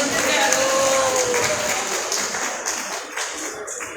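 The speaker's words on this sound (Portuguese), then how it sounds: "Você pode aplaudir mais forte" A church congregation at a Sunday school service in Belém, Brazil claps together, a broad, continuous wash of applause from many hands with some voices mixed in, gradually thinning toward the end.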